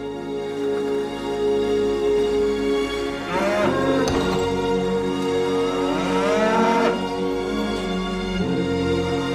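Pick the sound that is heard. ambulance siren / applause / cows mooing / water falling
cows mooing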